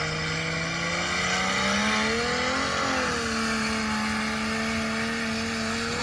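A built RB25DET engine in an R33 Skyline revs up steadily under load, a loud continuous six-cylinder drone climbing in pitch, dipping briefly at a shift, then pulling again, heard from inside the car with no talk.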